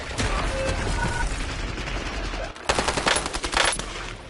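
Gunfire in Call of Duty Warzone, a steady stream of shots up close, then a louder, denser burst of automatic fire after a brief drop partway through.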